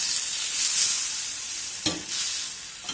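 Pizza base dropped into a nonstick frying pan with under half a teaspoon of extra virgin olive oil, giving a steady broadband sizzle with a sharp crackle burst near the middle and a small pop at the end.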